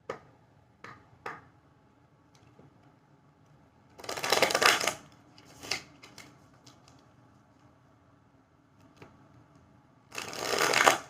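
Oracle cards being shuffled close by in a quiet room, with two louder riffling bursts separated by scattered light taps and card handling, no talking.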